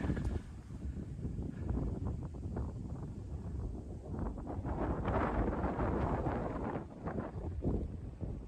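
Strong wind buffets the microphone in a steady, loud roar with gusty surges on the Cotswold Hills south of Winchcombe at 8 AM, no voices heard.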